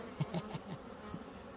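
Honeybees rising from an opened hive, giving a faint buzzing of several wings with a few brief louder passes near the microphone.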